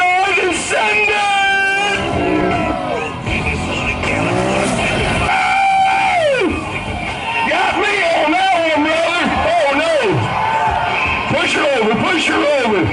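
Can-Am ATV at a bounty hole event, engine revving hard with tires spinning and squealing in mud, loud and close, while a crowd yells and an announcer talks excitedly over it.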